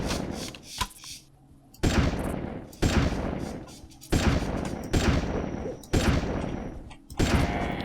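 Shotgun blasts in the dinosaur-hunting game Carnivores 2+, about six loud, separate reports spaced roughly a second apart, each with a sharp crack and a decaying tail, no voices.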